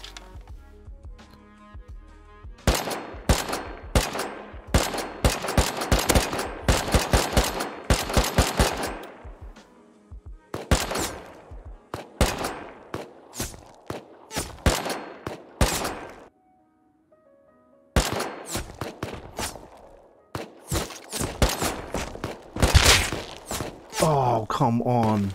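Bursts of automatic gunfire in a video game match, coming in rapid volleys with short pauses and a brief silent gap midway, loud and close throughout.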